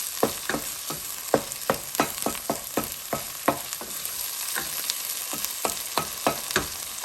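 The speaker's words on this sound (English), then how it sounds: "Now I'll add in chopped tomatoes. Give it a good stir." Chopped tomatoes stirred into ginger, garlic and green chili frying in ghee for rajma, heard as a continuous sizzle punctuated by a rhythmic series of sharp spoon scrapes and clacks against the pot, close and without voices.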